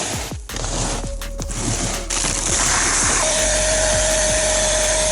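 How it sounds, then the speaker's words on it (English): A vacuum cleaner hoovers sand from the interior of a Volkswagen Golf GTI, its loud steady whine continuous throughout, with rattling, crackling bits of grit being sucked up near the nozzle. "I think I'm going to have to find a better hoover for this desert I've found."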